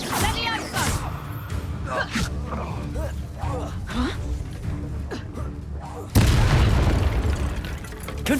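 Repeated fiery blasts of the Confringo explosion spell in Hogwarts Legacy, a series of booming bursts amid battle noise and cast vocalizations, with a louder, sustained eruption near the end.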